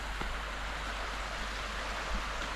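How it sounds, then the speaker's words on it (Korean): A stream's flowing water on a street in Dazaifu, Japan, makes a continuous, even rushing hiss that is soft but fills the background, with no talk over it. "여러분 물소리 들리세요?"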